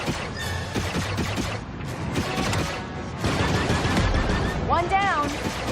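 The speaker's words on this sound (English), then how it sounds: "Turret activated, Kay." Dense, loud rapid-fire turret gunfire and blaster effects from the Star Wars Outlaws video game, continuous through the clip, overlaid with game voices and a rising electronic whine near the end.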